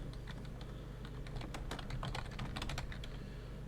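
Quick, close clicking of computer keyboard keys as a command is typed, an irregular run of light taps over a steady low hum, with no talking.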